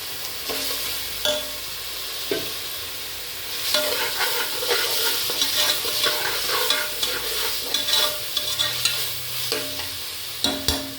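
Masala sautés with softened onion in a pan, a steady sizzle broken by repeated scraping and stirring knocks, close and fairly loud with no talking.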